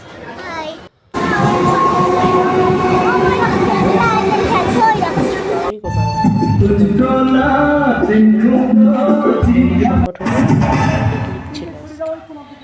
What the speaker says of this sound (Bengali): এই যে আমি গোবরডাঙ্গা স্টেশনে বসে আছি, আমরা ট্রেন ধরবো বলে